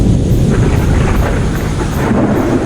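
Heavy, continuous thunder rumble with a stormy, rain-like wash fills the space, loud and unbroken, backing a Hindi horror story set on a rainy night near a mansion.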